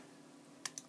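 Two quick, close keyboard clicks of WASD keys being pressed on a computer keyboard while gaming, sharp and crisp against a quiet room.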